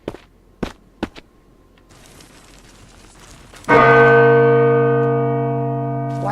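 A single bell attached to chains in The Wizard VR video game is struck once after a few footstep-like clunks, ringing out loud with a long, slowly fading metallic tone.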